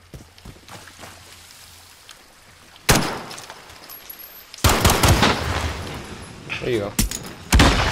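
A smoke grenade goes off during a Call of Duty Modern Warfare Gunfight match: a sharp burst, then a long, loud, hissing rush broken by further gunfire cracks, with brief talk early on.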